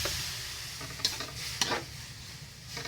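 Ground pork cooks in a pan with a soft, steady sizzle, and two brief stirring scrapes break through near the middle; the sound is fairly quiet and close, with no talking.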